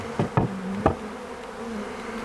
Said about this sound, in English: Gosh, that's a decent swarm.